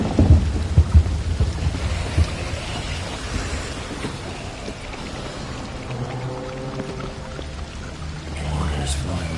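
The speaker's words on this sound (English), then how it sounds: "Water's flowing on the other side." Rushing water in The Witcher 3: Wild Hunt (Blood and Wine), a steady broadband wash like pouring rain or a stream, with low rumbles and a brief voice near the start.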